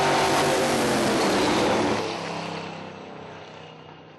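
A drag racing car launching down a hot track, its engine roaring loud at first and then fading away into the distance as it pulls off.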